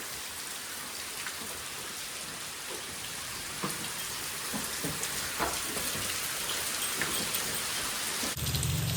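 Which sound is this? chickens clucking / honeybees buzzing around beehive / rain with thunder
rain with thunder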